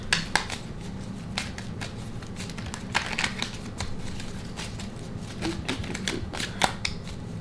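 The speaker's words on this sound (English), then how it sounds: "we're gonna let these cards fall out as we normally do" Tarot cards are shuffled and allowed to fall out of the deck, giving a steady run of soft, quick clicks and riffles with a few sharper snaps, close and fairly quiet.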